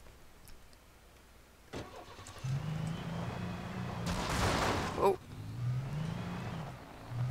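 A car engine in the video game Alan Wake cranks and catches, then settles into a running hum with a brief rev, mixed with a gritty burst of other game noise; fairly close and loud.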